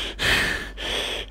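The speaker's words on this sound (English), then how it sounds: "If I notice my breath, I hope you could hear that." Heavy, agitated breathing from a person, two long forceful breaths with a brief pause between them, close and alone with no talk.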